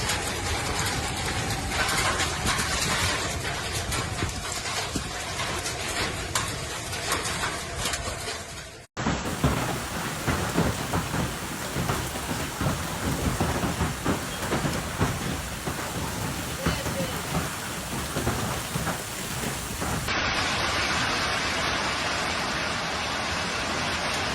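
Heavy rain and hail pounding surfaces during a severe Australian hailstorm that damaged homes and cars, a dense continuous roar close by with a low rumble of thunder underneath.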